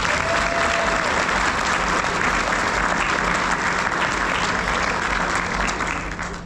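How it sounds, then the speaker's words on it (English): Audience applause at a mock tobacco auction held at the NC State Fair in 2025, a loud, sustained wash of many hands clapping that continues evenly throughout, with faint crowd murmur underneath. "Let's give Bailey a round of applause."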